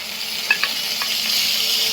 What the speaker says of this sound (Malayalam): ഉള്ളി ഇട്ടൊന്ന് വഴറ്റി കഴിഞ്ഞാൽ നമ്മൾ അത് അരിഞ്ഞു വെച്ചിട്ടുള്ള പാവയ്ക്ക ചേർത്ത് കൊടുക്കാം.